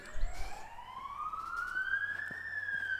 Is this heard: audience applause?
no